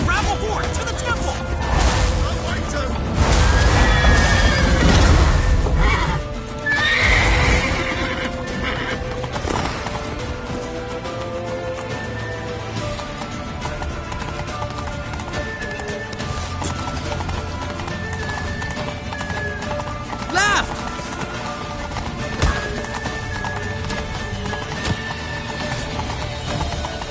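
Horses in The Witcher 3 video game on PS5: loud neighing and rapid hoofbeats early on, then galloping and clip-clop continuing under music and game effects, with character voices shouting over it.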